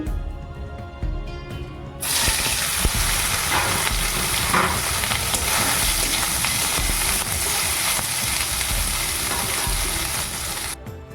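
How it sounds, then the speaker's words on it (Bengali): Soybean chunks fry in a pan. A loud, steady sizzle bursts in after about two seconds and continues close up without a break, with no talking. "সোয়াবিনটা ভেজে নিচ্ছি একটু"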